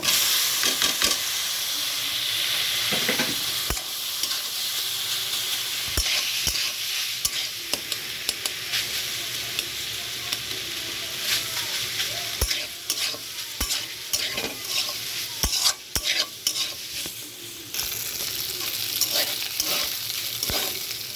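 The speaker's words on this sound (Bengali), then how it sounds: "এখন পাস্তাটা ঢেলে দিব।" Pasta tipped into a hot pan and stirred for a quick children's pasta dish, with steady loud sizzling and frying hiss broken by sharp scrapes and clinks of the spoon against the pan.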